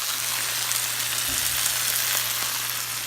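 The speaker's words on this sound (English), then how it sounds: "I get a tiny bit of margarine" A small dab of margarine sizzles in a frying pan, a steady close crackling hiss with no pauses, set beside a pork stir fry, under a low constant hum.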